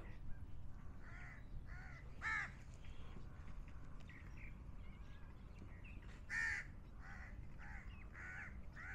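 Crows caw repeatedly at the Khor Kalba mangrove centre in Sharjah, harsh calls in a loose rhythm with two louder, nearer bursts standing out over the steady ambient noise.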